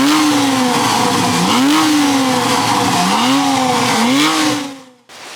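A Porsche 911 991.1 with its 3.8-litre naturally aspirated engine revs loudly in repeated rising and falling sweeps, several throttle blips in a row, before cutting off abruptly near the end.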